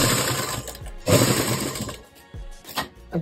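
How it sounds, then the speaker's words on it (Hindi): A sewing machine stitches fabric for a handmade newborn baby nappy at home, running in short, loud, buzzing bursts separated by brief pauses and small handling clicks. "फिर ये दूसरे तरफ भी सिलाई कर लेंगे।"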